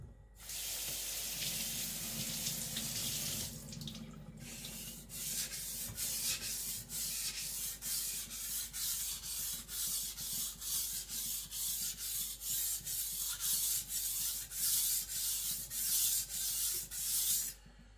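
An IKEA Chinese cleaver is drawn across a whetstone in a steady series of rasping, scraping strokes, roughly two per second, close and clear with no talk.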